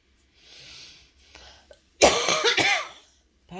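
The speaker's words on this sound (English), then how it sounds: "Pardon my coughing." A person coughs several times in a quiet indoor room, a faint throat sound first, then a loud close burst of two or three harsh coughs, followed by silence and another brief cough.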